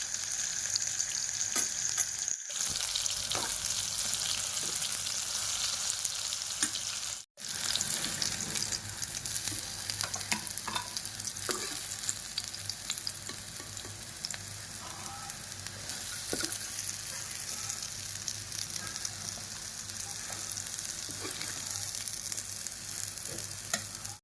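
Soybean chunks frying in hot oil, a steady dense sizzle that runs unbroken for the whole stretch, with small pops and bubbling bursts scattered through it. The sound is fairly close and no one talks.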